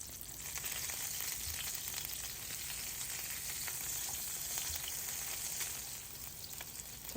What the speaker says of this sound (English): Now I'm going to add the beef patties. And I'm going to brown them on each side.